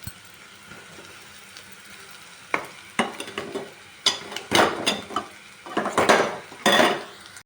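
Egg bhurji frying in a pan with onion, scraped and stirred with a metal spoon, giving irregular clanks and scrapes over a soft sizzle, louder in bursts toward the end.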